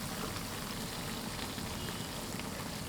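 Flour-and-water dough cake frying in hot oil, a steady, even crackling sizzle that holds at a soft, constant level throughout with no voices.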